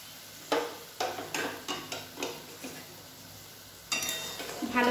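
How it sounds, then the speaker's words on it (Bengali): A spoon scrapes and stirs through simmering sugar syrup with salt and turmeric for raw mango chutney. The repeated stirring strokes sound close and moderately quiet over a steady bubbling background. "ভালো করে নাড়িয়ে নেব।"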